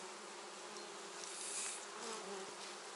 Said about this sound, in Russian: Я сейчас стряхну этих пчел